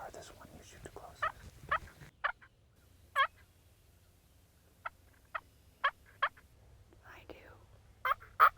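Wild turkey jakes, three young males working toward decoys in spring, let out a series of short, sharp gobbles at uneven intervals, fairly near and clear above quiet surroundings, with a brief soft voice early on.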